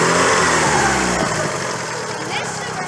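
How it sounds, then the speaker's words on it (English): A car engine runs smoothly and steadily, loud and close, with a slight settling of pitch partway through and faint voices in the background. "Watch this motor. It's no movement whatsoever on this motor."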